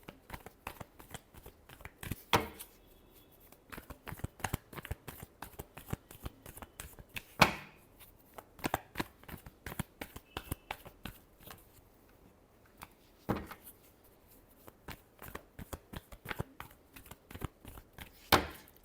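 Tarot cards are shuffled by hand, with repeated quick riffling bursts and soft flicks that come in uneven clusters, close and fairly quiet, with a few sharper slaps along the way and no talking.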